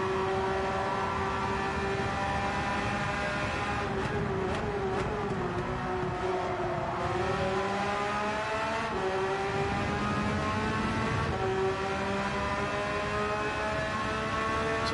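A race car engine in Gran Turismo 7 howls steadily on a circuit, rising and falling in pitch through gear changes and corners, loud and continuous with no talking.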